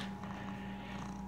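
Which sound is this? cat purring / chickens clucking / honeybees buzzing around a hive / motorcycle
cat purring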